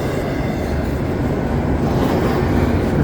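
A CP freight train rolls past at Dorval in cold winter weather, a steady close rumble of wagons and wheels filling the whole stretch without pause.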